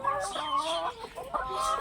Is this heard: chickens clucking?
yes